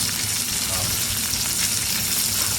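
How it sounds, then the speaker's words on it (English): Onions caramelizing in a pan on a stovetop give off a dense, continuous close-up sizzle that holds steady and loud throughout. "I'm just letting the onions caramelize, do the thing, get the juices"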